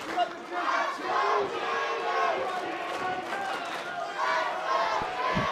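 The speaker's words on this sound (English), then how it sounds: "Somehow Ben Saylor is shocked they are cheering for Jimmy Rockwell." A wrestling-event crowd roars and chants in sustained waves of cheering, loud and dense throughout, with shouts rising and falling and a few thuds near the end.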